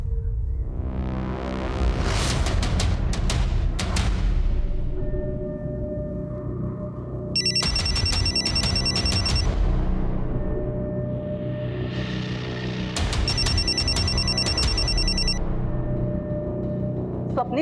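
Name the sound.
telephone ringing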